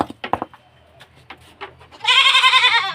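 Goats bleat at close range, a few short bleats and rustling noises followed by a loud, long wavering bleat at the end.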